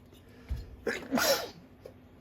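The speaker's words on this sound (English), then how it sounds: "Sorry, had to sneeze." A single close sneeze with a quick intake of breath before it, set against a quiet room.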